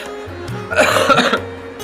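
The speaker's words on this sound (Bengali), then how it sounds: "খুব কাশি বন্ধুরা, খুব কাশি" A short burst of harsh, repeated coughing, close and fairly loud, over a low steady background hum.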